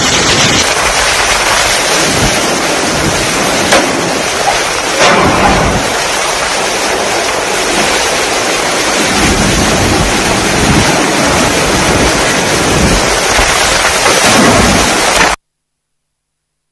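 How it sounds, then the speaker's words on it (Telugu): Heavy monsoon rain pounds down in Mumbai as a dense, continuous roar, with low rumbles swelling beneath it like distant thunder; no voices. "ఇదే సిచ్యువేషన్ ముంబైలో భయంకరమైన వర్షాలు."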